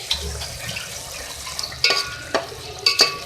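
Beef pieces cooking in a pan with yogurt give a soft, steady bubbling sizzle, with a few sharper stirring clinks near the end.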